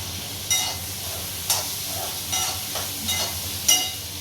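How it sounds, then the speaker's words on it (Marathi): Onion, tomato and garlic sizzle and fry in a pan while a spoon stirs and scrapes at intervals, the hiss steady underneath the periodic stirring clatter. "कांदा टमॅटो लसूण हे परतून घेते जरा"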